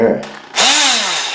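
A handheld power tool fitted with a rigid steel blade removing grout, a short burst that starts abruptly and whines close and loud, with a pitch that rises and then settles.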